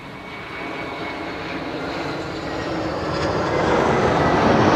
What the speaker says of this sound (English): Pretty soon this airplane is going to land on the runway we are standing next to.